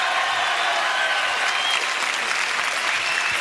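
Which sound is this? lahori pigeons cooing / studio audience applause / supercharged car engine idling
studio audience applause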